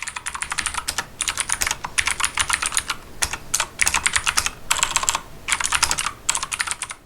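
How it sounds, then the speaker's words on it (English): Fast, crisp clicking of a Keychron K10 mechanical keyboard with clicky switches in bursts of rapid keystrokes, separated by short pauses, close and clear. "This was my first keyboard with clicky switches"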